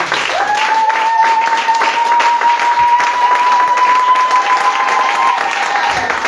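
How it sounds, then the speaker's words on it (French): A church congregation claps and cheers in a dense, continuous burst of applause while a sustained tone from an instrument or voice holds underneath. "Acclame bien, acclame bien"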